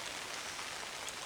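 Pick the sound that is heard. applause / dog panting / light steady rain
light steady rain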